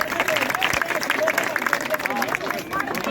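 A crowd at a local ward election rally in Beri claps for a candidate, with busy, uneven applause mixed with loud voices and crowd chatter throughout.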